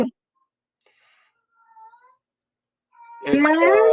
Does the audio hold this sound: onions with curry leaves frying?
no